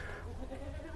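A Peranakan Etawa (PE) goat gives a short bleat, faint and brief, against a low background.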